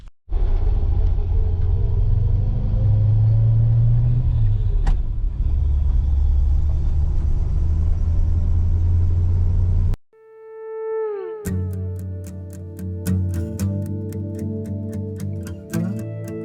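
A 1969 Chevrolet C10 pickup rumbles low and steady while cruising for about ten seconds, then the sound cuts to music.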